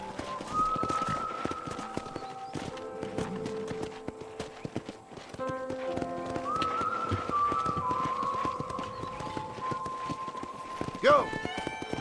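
Horse hooves clip-clop in a steady galloping rhythm in the Red Dead Redemption video game, close and continuous over twelve seconds, with occasional whinnies, birdsong and soft game music in the background.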